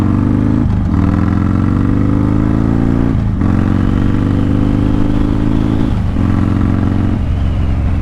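A motorcycle ridden on a road, engine loud and close throughout, with a steady drone that rises in pitch through the gears and dips briefly at each shift.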